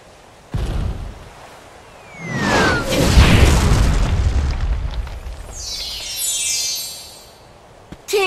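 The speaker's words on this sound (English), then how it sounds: "Hold on! I gotta stop that cannon!" Cannon fire exploding on the water in the Kingdom Hearts video game: a sudden boom, then a long rolling roar that swells and fades over several seconds before a final sharp hit.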